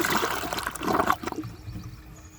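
An American Standard Homestead VorMax toilet flushes, a close rush of swirling water that quickly fades to a soft trickle and gurgle.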